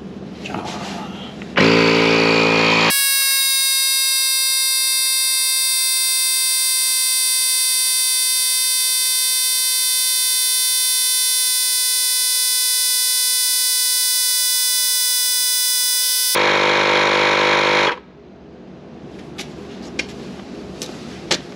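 A Milwaukee M12 12V inflator pumps air into a bus tire, running as a loud, steady, buzzing motor whine for about fourteen seconds, with brief handling noise before it starts and after it stops.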